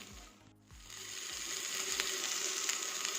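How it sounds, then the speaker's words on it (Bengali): Green beans tossed into a small amount of hot oil in a pan, an intensifying sizzle after a brief dip, with a few low knocks of a spatula while stirring. "এবার আমি বিনস অ্যাড করে দিই, একটু হালকা নাড়াচাড়া করে গাজরটা আমি অ্যাড করে দেব।"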